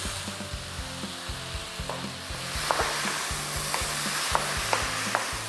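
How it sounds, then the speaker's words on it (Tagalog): Tomato and onion sauté in a sizzling pan, a steady close hiss broken by regular scraping and tapping strokes of a spatula stirring the pan. "Ituloy mo lang yung pag-isa dito hanggang sa maging malambot na yung kamatis at yung sibuyas."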